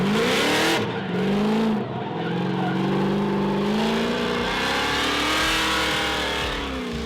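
A modified 800-horsepower Nissan 350Z drifting, its engine roaring and revving hard with rising and falling pitch, joined by sustained tire squeal and skidding, loud and close throughout.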